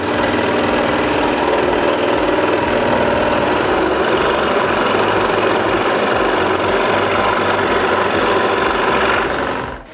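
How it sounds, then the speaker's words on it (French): Scroll saw cutting wooden pieces for an intarsia lighthouse, a loud, steady buzzing whir running continuously at close range and stopping abruptly at the end. "Je commence donc par couper les morceaux avec la scie à chantourner."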